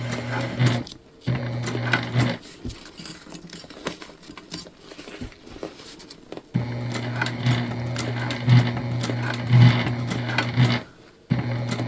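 A sewing machine top-stitches a shoulder bag in close, loud bursts of rapid steady stitching, pausing briefly between runs as the fabric is pivoted.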